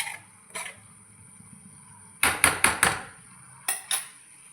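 A spoon scrapes and clinks against a pot while Koorka (Chinese potato) curry is stirred, with a quick burst of five rhythmic knocks and a few scattered taps in between, close and clear without speech.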